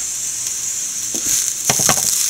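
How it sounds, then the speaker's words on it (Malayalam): Fennel seeds, garlic, shallots and curry leaves crackle in hot oil for a roasted-coconut fish curry, a loud close hiss with bursts of scraping and spluttering toward the end. "കുറച്ച് പെരിഞ്ചീരകം ഇടാം വെളുത്തുള്ളി ചുവന്ന ഉള്ളി അതിൻ്റെ കൂട്ടത്തിൽ രണ്ട് മൂന്ന് കറിവേപ്പിലയും കൂടെ നമുക്ക് മുരിയ വറക്കാം"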